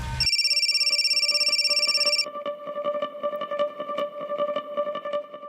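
A telephone rings in a Bengali police crime drama scene, with a steady electronic trill for about two seconds before it gives way to a busy, echoing musical backdrop.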